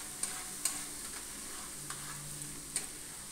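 Ginger and green chili sautéing with tomato in a pan: a quiet, steady sizzle with a few sharp clicks of a spoon against the pan, no voices.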